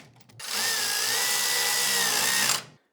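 A power drill runs steadily for about two seconds, tightening the center bolts during a body panel install on a 2019 Harley-Davidson Road Glide, close and loud, then cuts off abruptly.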